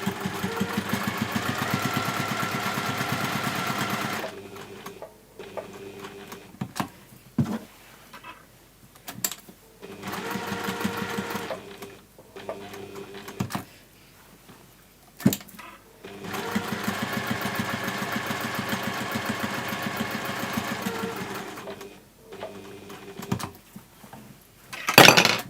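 A sewing machine top-stitches around the handle of a fabric gift bag, running in steady bursts of rapid stitching with short pauses between runs, close and alone.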